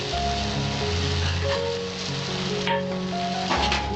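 Bottle gourd and prawns sizzle steadily in a pan while being stirred, a continuous near frying hiss with faint scraping throughout and no talking.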